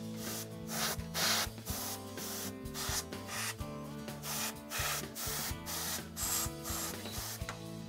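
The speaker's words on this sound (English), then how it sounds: "Remember to blow the dust from the inside blowing out." Canned compressed air blows dust out of a computer in a continuous hiss, broken by rapid fluttering pulses and rattling from the machine's insides, steady and close throughout.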